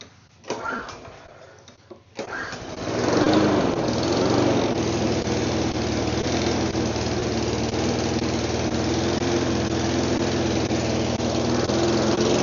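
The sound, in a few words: small engine running with the idle turned up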